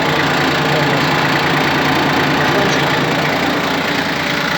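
A Yanmar F15D mini tractor idles steadily nearby, a continuous even chugging rumble with no talking.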